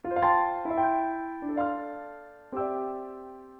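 Piano patch on a Roland Juno DS synthesizer playing four struck chords in slow succession, each with a bright attack and a long sustained decay, moderately loud with no voices.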